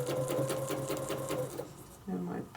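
A sewing machine stitches a quilting template with a steady rapid hum and pulsing needle rhythm, close and clear, then pauses briefly before restarting near the end; faint talk mixes in.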